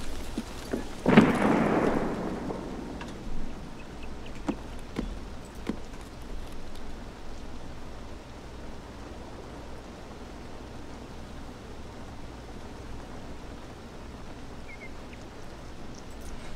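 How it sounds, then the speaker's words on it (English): Rain and thunder in the video game Escape from Tarkov: one loud rumbling thunderclap near the start, then steady hissing rain throughout with faint scattered clicks, no voices. "Why does it rain every day in Tarkov?"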